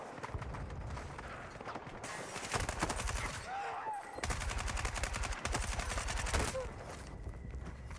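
Automatic gunfire in the RedSec video game, rapid sustained bursts of shots in two long strings with a short gap between them, loud and close, with quieter shots before and after.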